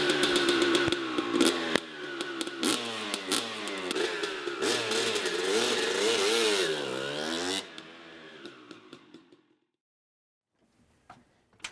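A dirt bike engine revs hard for about eight seconds, loud and close with rising and falling pitch sweeps, then cuts off and fades into near silence with a faint blip near the end.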